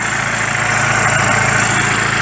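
A Case IH 7610 Herencia tractor, roll bar removed and exhaust rerouted downward, runs steadily in a vineyard, giving a loud, constant engine drone with a fixed tonal hum and no pauses.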